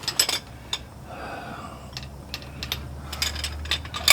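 A ratchet wrench loosening bolts: short bursts of crisp metallic clicking come and go in uneven spurts, close by, with quiet pauses between the turns.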